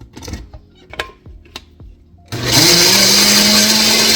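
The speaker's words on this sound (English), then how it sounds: "we're going to slip that into the blender so we can get some nice coconut milk" A countertop blender whirs loudly and steadily as it blends coconut with water for coconut milk, starting abruptly after a few light clicks and knocks and running continuously close by.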